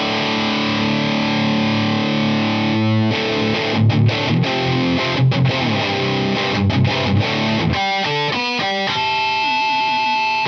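An inexpensive metal electric guitar plays through heavy distortion, sustained chords giving way to choppy palm-muted riffs with abrupt stops, ending on a ringing held note; no voices.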